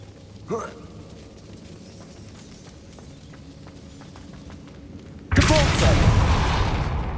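A Confringo blasting spell explodes in Hogwarts Legacy, a sudden loud broadband burst that erupts after a quieter stretch and roars on to the end, with a brief sharp crack near the start.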